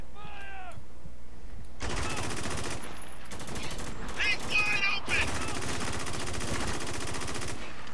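Automatic gunfire in the war shooter Spec Ops The Line, sustained broadband bursts from close range rattling across several seconds, briefly pausing then resuming, with a short voice at the start.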